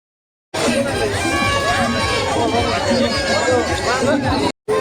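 Dense crowd chatter and hubbub at a crowded village fair carry on steadily for several seconds, with many overlapping voices, some shouts and general noise.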